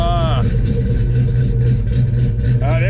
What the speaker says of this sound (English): Once it idles down, it does start lumping.